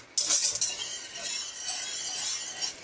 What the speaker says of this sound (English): I'm going to use my little whisk here